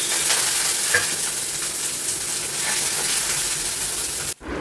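Raisins and cashews fry in a pan, a loud, steady hiss of sizzling oil with scattered crackles that runs almost the whole time before a brief dip near the end.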